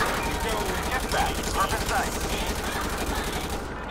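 Gunfire in GTA 5 during a police chase, rapid bursts of shots rattling in quick succession over a continuous background roar, fairly close and loud.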